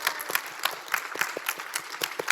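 A congregation at a Seoul Full Gospel church service claps in praise to God: distinct, fairly sparse hand claps in uneven bursts, moderately near, with no one speaking over them.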